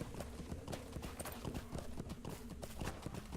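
Horse hooves clip-clop steadily in The Lord of the Rings Online, a brisk, even gallop rhythm sitting close and fairly loud with no voices over it.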